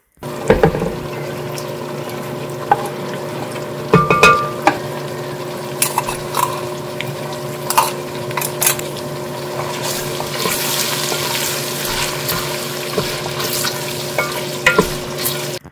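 Chicken frying in hot oil with onion puree, a steady loud sizzle with stirring scrapes and bubbling throughout, close up with no talking.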